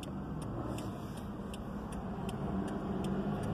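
A car's engine runs steadily as the vehicle pulls away after being shifted into drive, a continuous low road rumble with faint regular ticking, like a turn signal, over the top.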